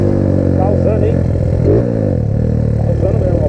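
A motorcycle engine drones and revs steadily throughout, its pitch swelling and dipping beneath continuous nearby talk; no distinct skid stands out.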